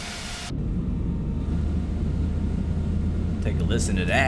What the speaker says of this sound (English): Alright, engine 2's firing up.